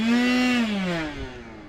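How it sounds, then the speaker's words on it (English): A power tool unscrews screws from a toy car: a loud, close motor whine that starts high, slides down in pitch and winds down within a couple of seconds, with no talking. "Unscrewing the screws on Tornado Tackler 2."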